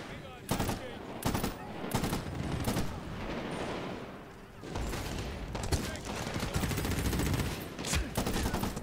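Bursts of gunfire in the video game Medal of Honor Warfighter, several sharp rapid shots and short volleys in clusters, loud and close, with a player talking between them.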